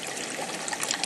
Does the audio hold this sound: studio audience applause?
no